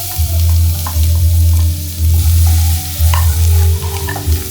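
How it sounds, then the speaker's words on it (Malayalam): Garlic fries in hot butter in a pan for a white pasta sauce, giving a loud, steady, close sizzle with stirring scrapes running through it. "ചൂടായി വന്ന ബട്ടറിലേക്ക് കുറച്ച് ഗാർലിക് ആഡ് ചെയ്തു"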